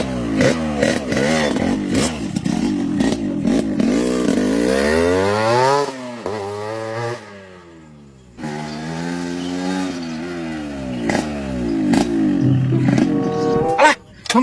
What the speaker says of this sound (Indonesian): Alah, motor Mang Jack eta kunaon?